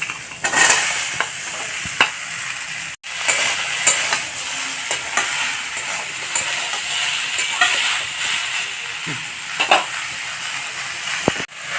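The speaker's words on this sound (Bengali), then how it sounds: "তো এর মধ্যে কেটে রাখা দিশি লাউটা দিয়ে দেব।" Chopped bottle gourd goes into a pan of lightly fried potatoes, giving a continuous hissing sizzle broken by several scraping stirs and clatters of a spoon, moderately loud with no voices.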